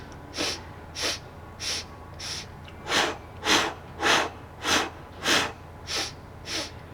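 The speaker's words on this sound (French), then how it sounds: "Je vais inspirer. Et à 3, je vais expirer" Sharp, rhythmic breaths in and out during a Pilates exercise, about a dozen forceful nasal puffs spaced roughly half a second apart, close and fairly loud with no talking.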